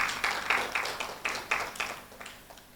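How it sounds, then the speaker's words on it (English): Audience applause at a book launch for a Center for Petroleum Institute project, a brief burst of clapping from a crowd that swells and then fades away over a few seconds. "So please, an applause for Chief Oyibo."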